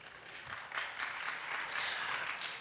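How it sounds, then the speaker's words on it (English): An audience at a talk claps steadily, a dense, even wash of applause that holds at moderate volume without voices. "I got applause before I even said anything."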